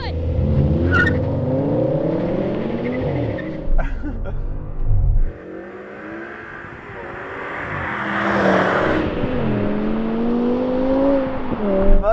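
A BMW M5 V10 and a Mercedes-AMG E55 launch side by side in a drag race, their engines rising through the gears in loud, close revving sweeps, with brief pauses at the shifts.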